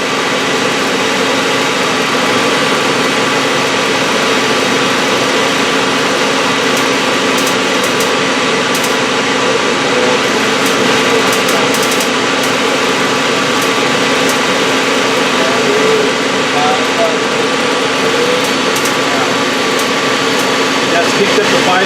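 A Citizen M20V 10-axis CNC Swiss lathe runs its spindle at high RPM, producing a loud, steady broadband whine and machine hum that holds unchanged throughout with no speech.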